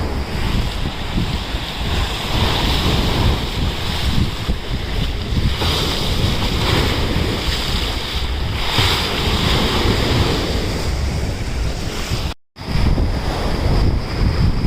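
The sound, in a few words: strong ocean waves with wind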